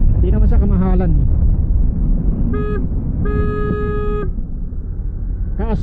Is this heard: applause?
no